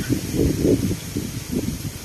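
Gusty mountain wind in Nasugbu, Batangas, buffets the microphone in low rumbling bursts, with a faint hiss above, loud and close.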